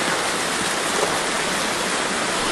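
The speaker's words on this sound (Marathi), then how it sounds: "आज जो पूर आलाय तो हा या ठिकाणावरती सुंदरपैकी तेली गल्ली, गोकुदास लेन आणि भगवती चौकात सगळं पाणी येत आहे." Floodwater rushing through lanes in Trimbakeshwar, Nashik during heavy rain, a steady, dense roar of flowing water with no breaks and no voices.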